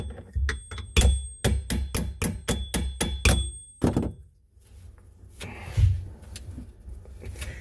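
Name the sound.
hammer tapping on metal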